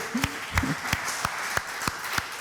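A church congregation claps in praise of Jesus, a steady rhythmic beat of about eight claps at an even tempo, moderately close and without voices over it.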